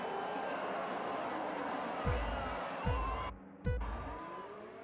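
Race cars in a racing game pull away at the Brazilian GP start: a droning engine chorus with three deep thumping surges as gears change, one sharp cut to near-silence, and a commentator speaking over it.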